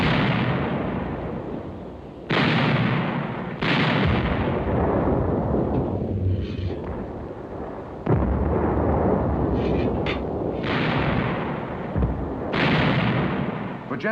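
WWII German artillery fire, heavy booming blasts and rumbling explosions arriving in repeated waves, loud and dense with sustained low roaring between the abrupt onsets, no voices.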